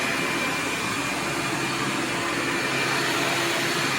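A Hoover PowerDrive Supreme vacuum cleaner runs steadily close by without its PowerDrive, a constant whooshing motor hum with a high whine on top and no other sounds.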